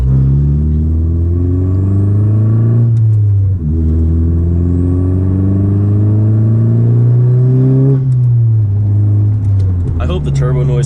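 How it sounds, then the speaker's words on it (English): Modified tenth-generation Honda Civic Si with a turbo engine, intake and turbo inlet pulling hard through the gears, a loud droning engine tone rising and falling with each shift, heard from inside the car. "I hope the turbo noises come up on camera, but pure L Cobra intake and 271 turbo inlet, RV6 turbo."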